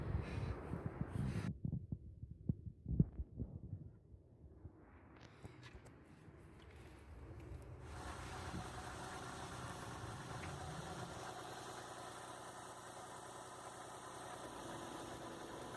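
A Mazda MPV engine idles with the hood open while its idle speed is adjusted. A faint, steady low hum follows some close mechanical handling and tapping noises.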